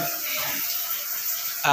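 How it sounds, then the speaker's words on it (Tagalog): Hot water pours steadily from a shower connected to a newly installed water heater, a constant hissing spray with a short voice cutting in at the very end. "purong mainit na tubig yung lalabas sa shower natin"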